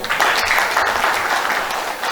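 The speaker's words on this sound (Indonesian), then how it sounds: "Tepuk tangan dulu." An audience at a political campaign event applauds in a brief, dense burst of clapping, loud and sustained with no voices on top.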